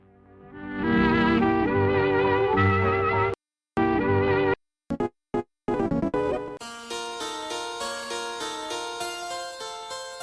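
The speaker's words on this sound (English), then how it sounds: "is a short sample from the opening theme of The Little Rascals, which sounds like this" A short sample from the opening theme of The Little Rascals used in a Deltarune video game song plays as a bouncy melodic tune, cut by brief abrupt silences, then shifts into a brighter, thinner section, with no talking.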